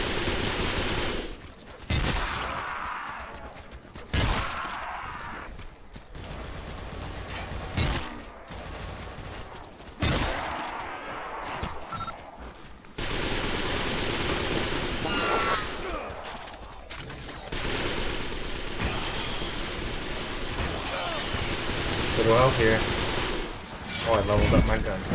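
Exploding-round gunfire in the video game Resistance 3 during a survival wave, heard as repeated loud bursts and thumps over a dense, busy battle din, with voices speaking at times.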